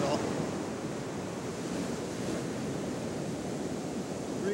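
Sea waves washing against a rock on a beach at dawn, a continuous broad rushing wash mixed with wind buffeting the microphone, fairly close and unbroken.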